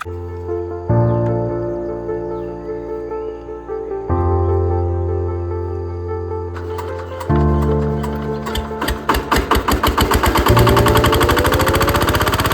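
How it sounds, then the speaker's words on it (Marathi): A tractor engine running in a flooded rice paddy on the first day of rain-soaked transplanting work, loud and close, with steady harmonic drone that shifts pitch several times, then rapid rhythmic knocking pulses building toward the end. "तर मित्रांनो, आम्ही ट्रॅक्टर घेऊन येलो बघा"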